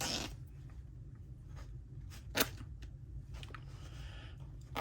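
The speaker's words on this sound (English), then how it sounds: "let's do a little bit of fraying on the cut edge" Cut paper edge being frayed for a junk journal, giving soft close scratching and rubbing strokes with one sharper rasp, heard alone against a low background hum.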